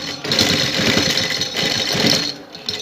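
Sewing machine stitching the stiffened neckline of a garment along to its corner, a steady fast mechanical whirr running nearly continuously at close range with a brief pause near the end.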